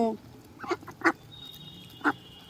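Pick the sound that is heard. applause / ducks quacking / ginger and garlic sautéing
ducks quacking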